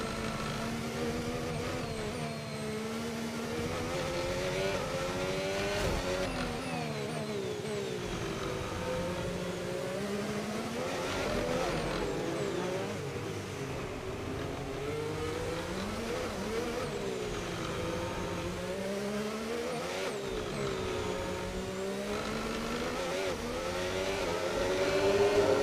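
Formula 1 race car engines in the F1 25 game at a Grand Prix, with a steady high whine rising and falling through gear changes and several cars blending together for the whole stretch, with no talk.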